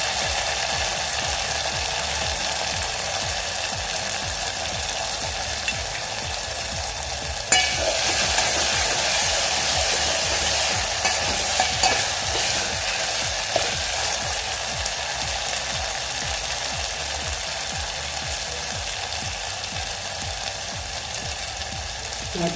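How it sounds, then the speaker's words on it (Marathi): A ground masala paste sizzles and is stirred steadily in a pan while a black kidney bean curry (amti) is cooked, a continuous close frying hiss with scraping, and no talk. "आपण वाटण व्यवस्थित परतून घेऊया"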